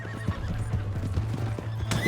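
A horse in Red Dead Redemption 2 clip-clops at a quick, regular gait, then lets out a sharp whinny near the end, close and clear with no talk.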